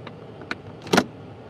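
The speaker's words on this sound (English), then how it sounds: "okay, let's take the top down here." A convertible car's roof is lowered, with a few short mechanical clicks and whirs followed by a louder motorized clunk, close by and brief.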